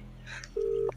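A mobile phone buried under soil on hands-free gives a connecting tone: one short, steady beep rising clearly over a low hum and then cutting off.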